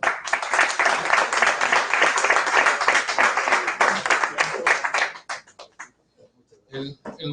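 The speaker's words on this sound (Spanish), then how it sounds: "Un aplauso, por favor." An audience at a sports law conference in Cancún claps for about five seconds, a moderately loud round of applause that fades quickly into near silence, followed by a brief spoken voice.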